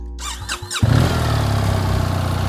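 A motorcycle engine, compared against a 1250 model, fires up after a brief starter whine and settles into a loud, steady running rumble close by, with no talking.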